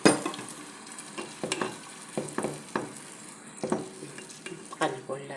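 Meat sizzles in oil in a pot with carrot, a spoon scraping and clanking against the metal in irregular bursts over a constant frying hiss; no talk.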